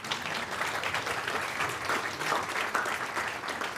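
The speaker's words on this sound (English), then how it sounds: "I think another round of applause wouldn't be too much." At an event with the Governor of the Central Bank of Nigeria, an audience gives a steady round of applause, many hands clapping densely at a constant moderate loudness throughout.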